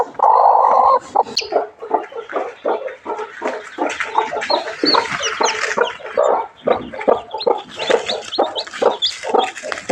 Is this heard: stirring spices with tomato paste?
no